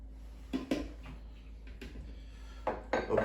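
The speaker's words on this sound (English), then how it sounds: "I will then scrape in the bacon and the onions" Bacon and onions with their fat being scraped into a food processor already loaded with butter: a few soft scraping and clinking knocks of utensil against the bowl, spaced irregularly, close and fairly quiet, with no talking.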